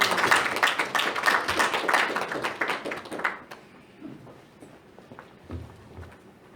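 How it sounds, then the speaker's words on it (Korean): Brief audience applause at a Y's Men's club leadership lecture welcoming a speaker to the stage, moderate clapping that stops abruptly after a few seconds, followed by quiet room sound and footsteps. "나오실 때 큰 박수로 환영해 주시기 바랍니다"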